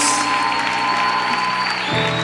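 A church congregation applauds during a worship night, a dense steady wash of clapping filling the space with sustained tones underneath.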